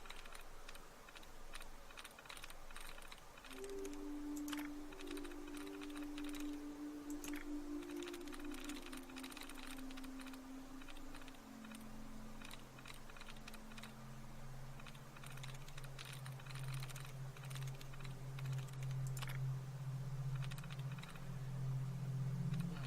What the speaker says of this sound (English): Random typing noises.